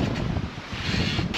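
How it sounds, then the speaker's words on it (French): Wind at 15 knots rushes over a sailboat on a choppy sea, a steady, loud blustering roar close to the microphone with no speech. "Là, on a 15 nœuds de vent."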